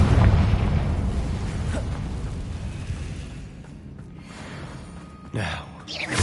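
A Confringo blasting spell explodes in Hogwarts Legacy, starting with a heavy low boom that fades into a rumbling tail, then a second sharper burst of sound near the end.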